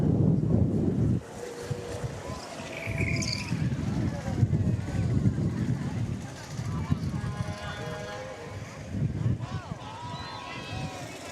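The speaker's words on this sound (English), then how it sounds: "The wind is really picking up now." Strong wind at an outdoor small-town festival parade buffets the microphone with steady low rumbling gusts, while a person talks over it and faint whistling tones rise in the background.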